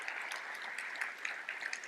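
Applause from a conference audience at the official opening of ERF2025, a steady, dense wash of many hands clapping, fairly soft and distant, running throughout with no speech.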